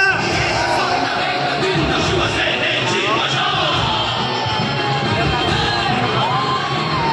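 Large outdoor Shiv Sena political rally crowd at Akurdi yelling, whooping and cheering together in a dense, continuous roar that stays loud throughout, with scattered shouts rising above the mass of voices.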